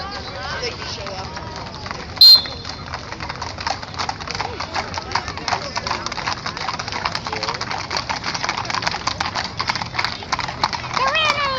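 Horses' hooves clip-clopping on a downtown street during a cattle drive, a steady close run of hoof strikes with a brief sharp knock partway through and people talking underneath.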